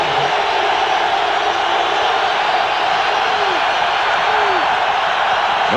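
A big football stadium crowd at a 1995 Raiders–Cowboys game keeps up a loud, continuous roar of cheering and murmur, steady and dense from start to finish.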